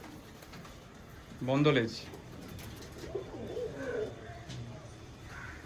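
Teddy and Malbai pigeons held by hand give a soft, throaty coo near the start, with a fainter murmur later, while someone speaks nearby over low room noise.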